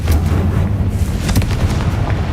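A Confringo fire spell blast in Hogwarts Legacy, a dense, continuous booming roar with a few sharper bursts across the whole moment, loud and close.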